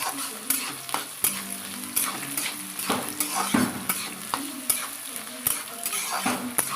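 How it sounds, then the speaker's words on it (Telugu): Green chillies and onions fry and sizzle in a pan for a fenugreek leaf and tomato curry, with a spoon repeatedly scraping and clanking against the metal in an irregular stirring rhythm over steady close sizzle. "కొంచెం బ్రౌన్ కలర్ వచ్చే వరకు ఆనియన్స్ ఫ్రై చేసుకుందాం"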